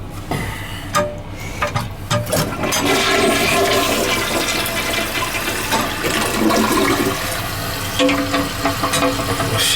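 Mansfield toilet flushing, then its tank refilling, a loud rushing gurgle of water up close that settles into a steady hiss of filling, with no talking.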